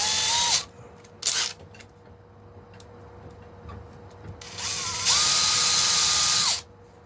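Power drill boring a tiny pilot hole in a Strat guitar body: two short bursts, then a longer steady whine lasting a second and a half, close and fairly loud.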